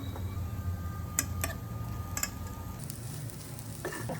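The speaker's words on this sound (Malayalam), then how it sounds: "പൊടികൾ മൂത്ത് വരുമ്പോൾ വേവിച്ച് ഉലർത്തിയെടുത്ത് ചിക്കൻ ചേർത്ത് മിക്സ് ചെയ്യാം." Spices and cooked chicken frying together in a pan for a samosa filling, a steady sizzle with intermittent spoon clicks and scraping as the mixture is stirred, with no voices.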